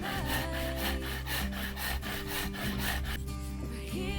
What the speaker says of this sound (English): Russ is cutting some nice little slivers of manuka wood to use as chips in the smoker now